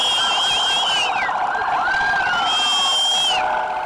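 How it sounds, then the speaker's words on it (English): Loud emergency sirens wailing and sweeping up and down in pitch, several overlapping, during a street celebration of released hostages in Israel, with crowd noise beneath. "Very loud. Very unnecessarily loud. Their sirens are huge."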